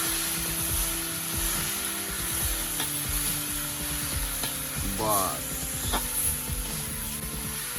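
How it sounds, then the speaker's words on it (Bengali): Chicken fries in a pan as turmeric is stirred in, a steady loud sizzle with scattered scrapes and knocks of the stirring spoon and a brief squeaky scrape near the end, without talking. "হলুদ দিয়ে নেড়ে দেওয়া হবে"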